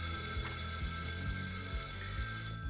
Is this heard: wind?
no